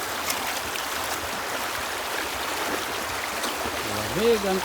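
A clean mountain stream flows near onion fields being prepared for planting, giving a steady close rushing and trickling wash, with a brief low voice at the very end.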